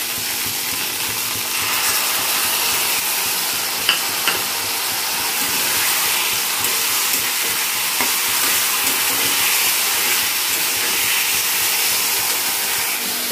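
Fried spice mixture tipped into a hot pan where fried okra is cooking, a steady loud sizzle and hiss with faint stirring scrapes and a few small clinks throughout.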